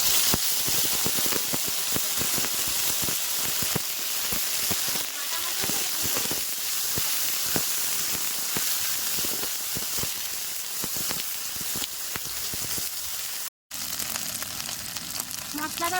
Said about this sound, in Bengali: তেলটা গরম হয়ে গেছে তেলের মধ্যে আমি এখন তেজপাতা শুকনো লঙ্কা গরম মশলা আর গোটা জিরা